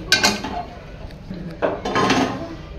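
Metal clanks and scrapes as a heavy iron griddle is set down and shifted on a cooktop for roasting spices, a couple of close knocks followed by rougher scraping.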